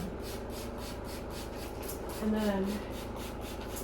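Rhythmic back-and-forth rubbing of sanding, steady strokes repeating evenly, with a brief spoken word partway through.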